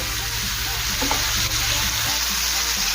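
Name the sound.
sautéing onion, tomato and cashew masala in pan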